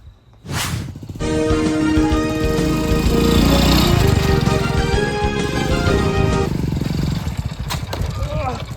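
A loud motorcycle engine revs up after a brief whoosh and holds a rough, droning roar before easing off near the end.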